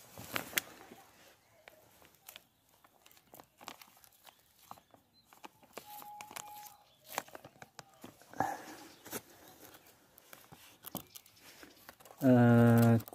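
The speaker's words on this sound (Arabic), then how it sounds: "كيس بلاستيكي مثقوب" A perforated plastic bag crinkles and rustles up close in scattered, irregular handling noises, with a short loud burst right at the end.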